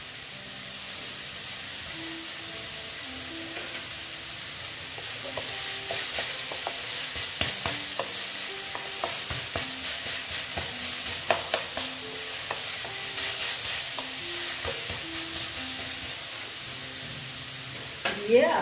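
Green chillies stirred and frying in a pan of vegetarian radish ghonto, a steady low sizzle with scraping spoon strokes and occasional clinks, close and moderately quiet, with no talking.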